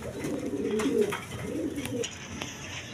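Quality pigeons, including fancy breeds, coo in low, rolling phrases that repeat several times at close range, with no talk over them.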